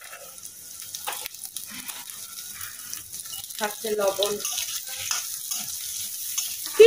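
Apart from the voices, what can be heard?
onion, green chili and yardlong beans frying in pan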